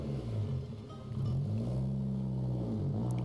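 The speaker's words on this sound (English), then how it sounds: "I'm just gonna play a car noise on my stream deck." A sound-effect car engine played from a stream deck during a strategy-game stream, revving and rumbling steadily with shifting pitch for about three seconds, fairly loud and with no voice over it.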